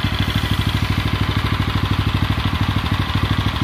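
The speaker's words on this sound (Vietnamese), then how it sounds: "Máy nổ rất là nhuyễn luôn anh em." A small 6 hp Tohatsu-type portable fire pump engine idles smoothly nearby, a loud, steady, rapid low putter with an even rhythm and no talk over it.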